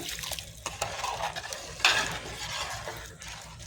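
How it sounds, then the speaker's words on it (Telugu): Steady crackling sizzle of dried red chillies and asafoetida in hot oil, with a brief louder burst midway and faint clinks of a spoon against the pan. "తాలింపు ఇంకా ఇలా కూడా వేగాలండి"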